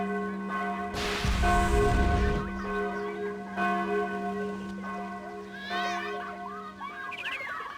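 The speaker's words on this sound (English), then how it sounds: "Hey, Tal, the alarm bells are ringing" Alarm bells in the video game Sudeki ring with sustained, resonant tolling tones and long ringing overtones, struck a few times over several seconds among soft game background sounds.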